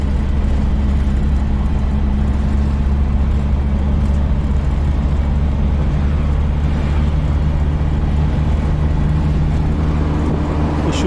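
A 4x4 jeep drives through Ushu forest in Kalam, Swat, its engine a steady, loud, low rumble that holds level throughout with no talking.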